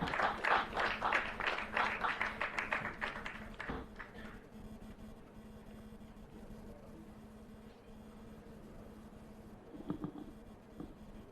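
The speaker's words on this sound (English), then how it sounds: "please welcome him with a huge round of applause" Applause from a conference audience at a digital summit welcoming a speaker to the stage, a burst of many hands clapping for about four seconds that fades into quiet room tone, with a faint voice near the end.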